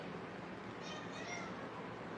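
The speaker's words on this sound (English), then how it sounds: "Oh, victory meow." A cat meows faintly, with short higher-pitched calls in the middle of the moment over a steady background hiss.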